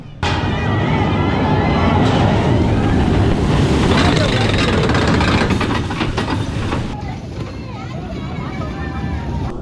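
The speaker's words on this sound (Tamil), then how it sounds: "இப்போ ட்ரெயினில் நம்ம கிளம்பிட்டோம்" A theme park train rumbles loudly as it pulls away, a heavy rolling clatter with wind buffeting the microphone and voices faintly mixed in.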